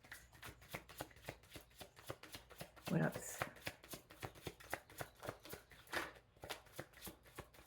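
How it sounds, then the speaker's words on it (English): A tarot card deck is shuffled by hand in quick, evenly repeated riffling taps, close and quiet, with a few words spoken partway through. "This deck's reminding me, you know, we don't like being shuffled that way."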